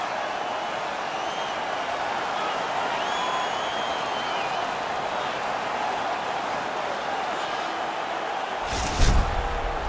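Hockey stadium crowd at an Edmonton Oilers versus San Jose Sharks NHL game, a broad, continuous wash of cheering and applause from a large audience, with a short sharp thump near the end.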